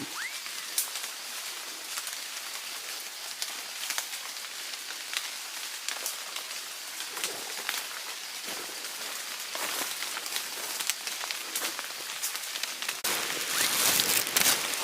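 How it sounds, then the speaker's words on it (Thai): Steady rain patters on leaves and ground in a forest on Doi Khamo, a dense close hiss with scattered drops that grows heavier toward the end, with no one talking. "ฝนตกครับเดี๋ยวนี้ครับ"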